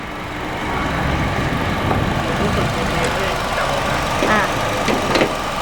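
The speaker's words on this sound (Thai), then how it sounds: "นี่นะคะเครื่องยนต์ยังเปิดอยู่นะคะ ไม่มีสั่นนะคะ" A 2017 Honda CR-V 2.4 engine idles with a steady low hum throughout, while someone talks nearby over it.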